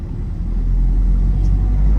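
A Ford Endeavour SUV with a 3.0-litre engine is driven, giving a steady, close, low rumble inside the cabin that swells slightly as it pulls, with no one speaking.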